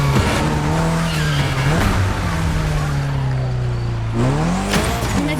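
Mitsubishi Lancer Evo 6 drifting around the Maui airport in The Crew Motorfest, engine holding a steady droning pitch with sustained tire squeal, dipping and rising again as the car changes direction, loud and continuous throughout.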